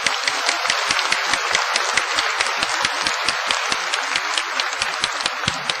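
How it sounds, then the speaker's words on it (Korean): A live audience at a Korean-language speech claps in unison, a steady run of sharp, evenly spaced claps at about five per second that fills the hall without a break. "박수에 박수."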